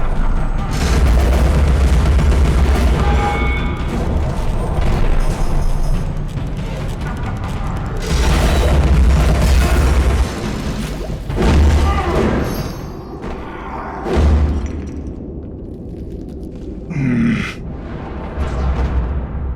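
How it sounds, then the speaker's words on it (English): Bombs explode in the video game Alice: Madness Returns, giving heavy, booming blasts and thuds that overlap with dense, loud game noise and continue through most of the stretch. "I hit those bombs"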